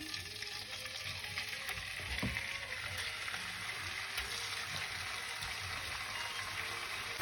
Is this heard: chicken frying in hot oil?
yes